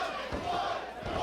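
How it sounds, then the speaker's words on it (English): Wrestling crowd in Worcester roaring and cheering at a live pro wrestling championship tournament match, a loud, sustained wall of voices close and dense throughout. "This crowd in Worcester has come alive for Ichiban"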